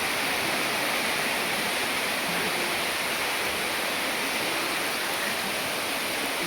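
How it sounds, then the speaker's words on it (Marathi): Steady broadband rain falling around an ancient stone Shiva temple, the Pataleshwar Mahadev temple near Bhiwandi, a dense even wash of patter that stays constant throughout with no voices. "पाऊस सुरू झालेला आहे."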